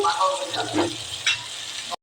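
Onions with salt sizzle in oil in a wok, short close bursts of crackling that swell and ease, ending abruptly.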